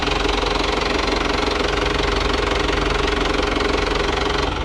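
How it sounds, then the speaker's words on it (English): A 160 horsepower Yanmar marine diesel runs steadily aboard a sailboat, a close, constant droning rumble with an even mechanical knock and no gaps or change in pace. "This baby's got a 160 horsepower Yanmar engine"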